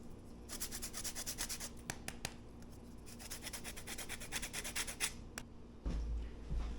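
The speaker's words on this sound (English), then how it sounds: "Now just a little bit of lemon zest on top." Lemon zest grated over a finished crab dish, quick rhythmic rasping scrapes of peel against a fine grater, close and steady, then a brief pause and a lower thump near the end.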